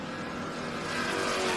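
A Buick wagon drag racing down the strip at a summer drag-and-drive event roars past loudly in a continuous, rising engine and tire rush, close and without talk.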